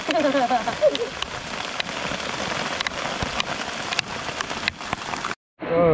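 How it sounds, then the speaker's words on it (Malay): Heavy rain pours steadily near a patch of durian scrub in Johor, Malaysia, a dense, close hiss of drops on surfaces that runs throughout, with a voice speaking briefly early on and the sound cutting out near the end. "hujan tak berhenti ni. Hujan tak berhenti ni."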